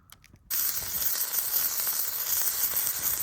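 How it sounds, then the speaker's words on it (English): After a brief quiet start, salmon and prawns sizzle loudly over a campfire, a steady hiss and crackle continuing close by, with no voices. "You can hear that sizzling, so that's it, just about ready."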